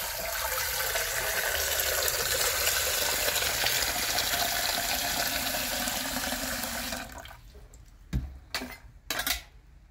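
Water runs steadily into a frying pan at a farmhouse sink during kitchen cleanup, a loud continuous splashing stream for about seven seconds, then it stops and a few sharp clinks of dishes follow.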